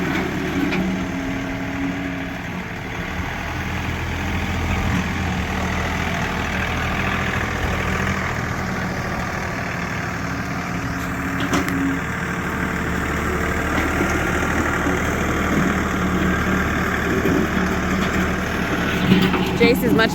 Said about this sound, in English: This is our 3046R John Deere with the big tool rack on the back.